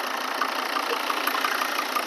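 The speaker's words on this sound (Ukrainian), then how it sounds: "Такий сухий, класний двигун." A 2011 Volvo V60 2.0 D3 diesel engine idles steadily and evenly up close, a constant running hum with a faint rhythmic tick, no voices.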